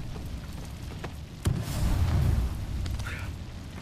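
A grenade goes off in the Apex Legends battle royale game, a single loud boom with a rumbling tail that swells and lingers for about a second amid background game noise.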